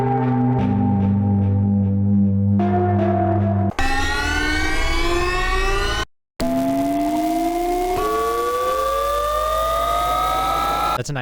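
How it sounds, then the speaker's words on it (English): A synth riser preset from a free Vital dubstep sound pack sweeps upward in loud, layered gliding tones, breaking off briefly at one point before climbing again, with no voices. "That's a nice actual riser to have in like a sound design way."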